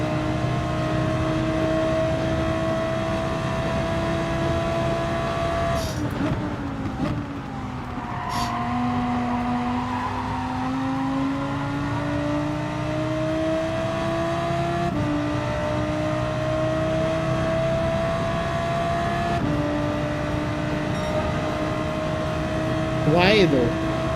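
A race car engine held at full throttle in Gran Turismo 7, a steady, droning high-revving tone that shifts pitch through gear changes, continuous over the whole stretch with a voice speaking over it.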